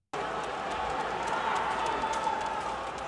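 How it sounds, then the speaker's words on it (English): Home basketball arena crowd reacting as Luka Doncic misses a free throw: a loud, sustained exasperated groan and murmur from a large crowd that fills the space evenly from start to end. "That's an exasperated crowd, like just straight up, just floored."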